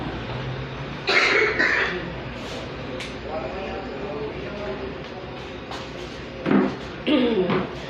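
Several short coughs from a person sitting in front of a fan, bursts scattered among quieter breathing and room noise, with faint speech-like sounds in between.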